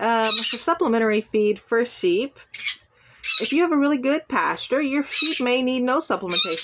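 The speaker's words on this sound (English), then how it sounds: "you might hear my parrot in the background because he's been very ornery today and he wants to keep making noise" A pet parrot squawks in the background while a person talks steadily about feeding sheep; the bird's harsh calls mix under and between the speech.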